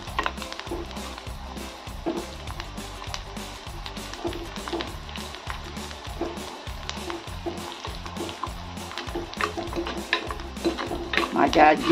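Onion frying with garlic and chili paste in a pan, stirred with quick, regular scrapes over a constant sizzle that grows a little louder toward the end.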